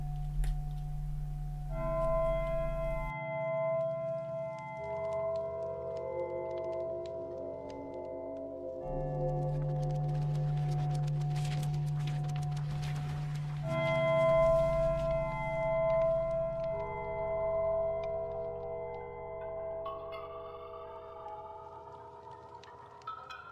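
A Minecraft music disc plays alone: sparse, slow sustained tones that shift in long blocks, with a hazy textured swell in the middle, all quiet and ambient.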